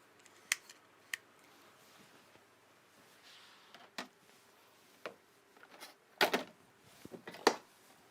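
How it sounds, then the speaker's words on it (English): Sharp, scattered snipping clicks of Fiskars scissors, a few isolated cuts then a quicker cluster, in a quiet room with no talking. "Oh, there are 3 Fiskars scissors."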